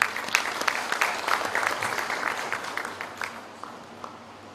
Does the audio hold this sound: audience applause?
yes